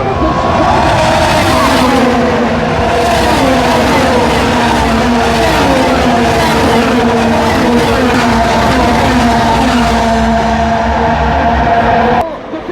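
Race cars accelerating off the green flag at the Long Beach Grand Prix street race, a loud, sustained roar of many engines rising in pitch together, close and overwhelming, with a commentator's voice partly beneath the noise.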